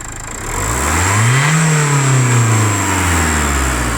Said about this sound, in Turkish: Gaz ver tam gaz.